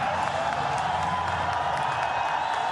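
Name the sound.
cricket stadium crowd cheering and applauding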